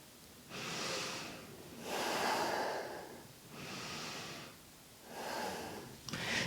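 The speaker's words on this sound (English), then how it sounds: "2 breaths here." Slow, deep breathing in a yoga back bend: four long, steady broadband breaths spaced about 1.5 seconds apart, close and quiet with no talking.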